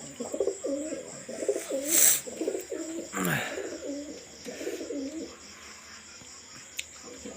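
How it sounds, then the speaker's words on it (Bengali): Pakistani highflyer pigeons coo in repeated soft, rhythmic phrases close by, with brief wing or movement noises and occasional chirps mixed in. "এখানে একটা পিস কামাগার একটা নর কবুতর আছে, এটাও সেল হবে"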